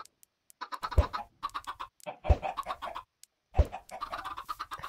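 Chickens cluck and scratch in a video game, a few short bursts of busy fowl chatter separated by brief pauses, close and moderately loud with no talk over them.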